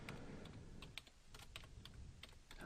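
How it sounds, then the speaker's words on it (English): Rapid, irregular keystrokes on a computer keyboard, typing letters one after another as distinct soft clicks at close range with no talking. "So I'm going to go ahead and type each letter."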